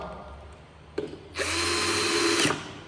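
A Dewalt electric drill runs in reverse to back out a screw, starting with a couple of short trigger clicks, then a steady close whining buzz for about a second before it stops, with no talk.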